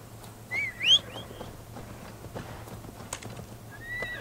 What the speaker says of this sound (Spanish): Caballos, venid.